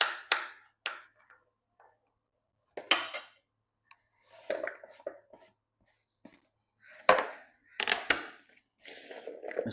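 Potatoes being cut into small pieces: sparse, irregular knife knocks and scrapes against a board, each one short and close, separated by quiet gaps.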